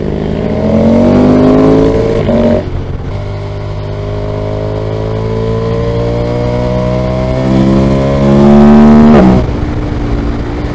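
A Yamaha Tracer motorcycle engine screams at high RPM, nearby and loud. It rises through the gears, briefly dips between shifts, then climbs again to a sustained howl before cutting back.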